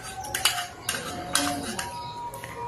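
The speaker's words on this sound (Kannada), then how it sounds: "ಆಮೇಲೆ ಕಟ್ ಮಾಡಿರೋ ದ್ರಾಕ್ಷಿ ಮತ್ತು ಬಾಳೆಹಣ್ಣು ಹಾಕಿ ನೀಟಾಗಿ ಮಿಕ್ಸ್" Chopped dates, grapes and banana tossed together in a bowl, giving a few light clinks and scrapes of a spoon against the dish, close and moderately quiet.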